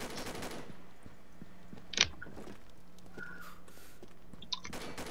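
A single sharp pistol shot rings out at close range in the online shooter Combat Arms, followed later by a faint click over steady low game background, with no talking.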